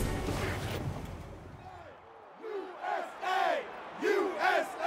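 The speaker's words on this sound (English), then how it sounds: "A big, big crowd out here trying to see which teams are going to be top-notch" A big crowd at the Penn Relays in Franklin Field roars and cheers in rising waves, with a muffled announcer or voices early on and excited whoops and shouts swelling in several surges toward the end.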